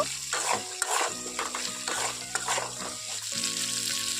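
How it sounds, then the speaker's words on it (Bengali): Pumpkin and potato pieces fry with salt in a pan, a steady close sizzle broken by repeated stirring scrapes throughout, with no talking. "পরিমাণ মতো লবণ দিয়ে খুব ভালোভাবে এখানে ভেজে নেব"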